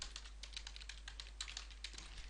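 Rapid typing on a computer keyboard, a steady stream of soft close key clicks over a low electrical hum, with no voices.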